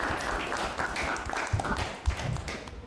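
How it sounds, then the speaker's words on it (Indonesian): Applause from a class of students, a steady spread of many hands clapping at moderate level for about three seconds, with a few louder single claps standing out near the end. "Ya, betul, tepuk tangan semuanya."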